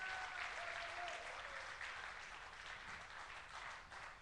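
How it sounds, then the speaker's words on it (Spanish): Faint, steady applause from a church congregation at a religious congress, a dense, even wash of clapping that sounds distant and continues without talk. "un aplauso fuerte al Señor."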